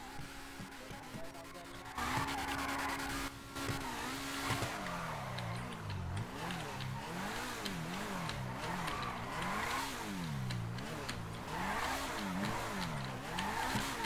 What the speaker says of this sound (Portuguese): Quero ver então fazer um zerinho ali atrás.